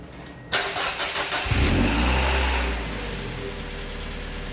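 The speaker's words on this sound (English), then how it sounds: "have Liam start the car up." A car fitted with a ram air intake kit cranks and fires up in a garage, a short burst of starter whine catching into a loud rev that settles to a steady idle, close by.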